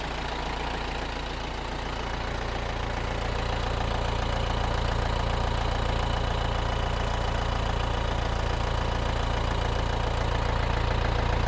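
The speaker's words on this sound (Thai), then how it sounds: "เครื่องเดิมสภาพเดิม สตาร์ติดง่ายค่ะ" An original-condition Yanmar tractor engine, a YM357A, runs steadily close by, a loud continuous diesel drone that builds slightly over the first seconds.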